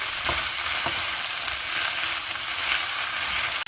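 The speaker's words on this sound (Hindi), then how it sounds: "अब सारी चीज़ों को ऐसे मिक्स कर देंगे।" Cabbage and chopped vegetables stir-fried and tossed in a hot pan while making chicken noodles, a steady close sizzle and crackle throughout with occasional scraping stirs and no talking.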